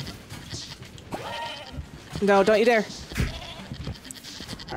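A goat bleats once, a wavering cry from the video game Moving Out 2, over busy game sounds and music, with a player talking before it.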